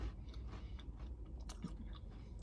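Someone chews a crunchy snack cake studded with dried fruit, giving close, quiet crunches and mouth sounds in a soft, irregular run with no talking.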